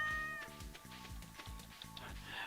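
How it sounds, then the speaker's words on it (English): In-game cat sounds from Stardew Valley, a short meow-like call over steady game music with faint chimes, while a voice talks briefly in the background. "What you doing there, cat?"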